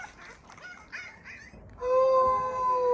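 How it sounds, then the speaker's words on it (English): A dog whimpers and cries in short yelps, then breaks into a loud, sustained tonal howl that carries to the end, close and alone with no talk. "Now this is the another dog. Just he's crying."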